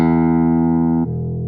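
Electric guitar tuned down an octave through a Digitech Hammer On pitch-shift pedal, a single sustained note that drops sharply in pitch near the end, close and loud.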